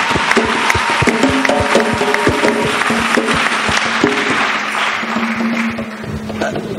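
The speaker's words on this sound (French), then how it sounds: "Acclamons pour Jésus-Christ." Church congregation applauding and acclaiming during a testimony service, dense sustained clapping with crowd voices and sharp claps throughout, fairly loud and close.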